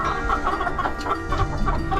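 Twelve-year-old hens pecking at GrubTerra feed, with a steady, busy chorus of low clucks and murmuring chicken calls from close by, continuing throughout without pause.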